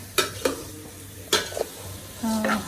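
Onions frying in a pan are stirred for a chicken roast, with a few sharp scraping strokes against the pan and a soft sizzle underneath, close and fairly quiet.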